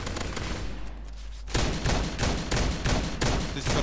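Sustained gunfire in the MTA DayZ video game fires in loud, rhythmic volleys, with a quieter lull before the shots pick up again and repeat steadily at close range.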